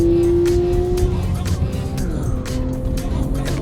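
Porsche 911 GT3 on track at Canadian Tire Motorsports Park, engine pitch climbing then dropping through quick gear shifts, a loud rising and falling roar with wind rush and a voice talking over it.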